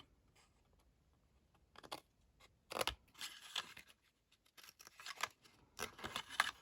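Scissors cut through card for a handmade Christmas card, a series of close, crisp snips and crunches in irregular bursts after a quiet start, with no talking.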